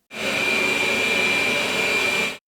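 A Roborock robot vacuum roars at max suction setting, a loud steady whooshing drone that starts abruptly, holds constant, then cuts off.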